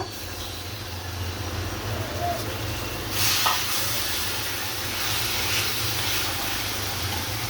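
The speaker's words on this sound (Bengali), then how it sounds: "কড়াইতে দিচ্ছি তেল। তেল দিয়ে দিচ্ছি, এখন দিব পেঁয়াজ বাটা।" Onion paste frying in hot oil in a wok, a steady broadband hiss and sizzle that swells louder partway through and holds under a low hum.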